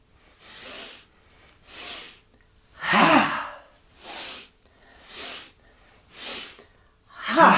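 Breath of Joy yoga breathing: seven strong, rhythmic breath bursts about a second apart, loud and close, with no talking.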